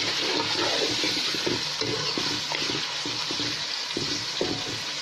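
Mutton with ginger, garlic, onion and cooking oil fries in a pan, a loud continuous sizzle with rhythmic stirring scrapes, close up and without speech.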